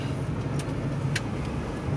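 A Subaru Outback car drives fast through a parking lot while drifting, giving a steady, fairly quiet engine and road rumble with a couple of brief higher-pitched squeals or scrapes over it.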